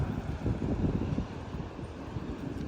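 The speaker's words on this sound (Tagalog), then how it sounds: "Ang lakas ng hangin today guys." Strong wind roars in a steady, rumbling rush on a rainy day in London, buffeting the microphone with no voices or other clear sounds.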